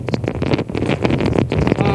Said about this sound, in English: Those winds are absolutely screaming.